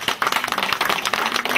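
An audience at a party congress in The Hague breaks into brisk, steady applause, dense clapping filling the room for a short, loud burst.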